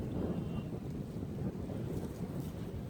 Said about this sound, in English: it's been a windy day